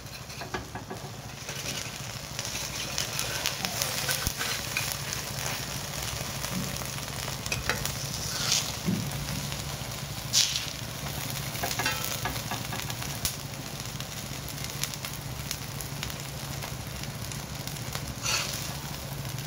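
A masala egg omelette frying in oil in a pan gives a steady, continuous sizzle with faint scraping and stirring, close and even throughout with no one talking.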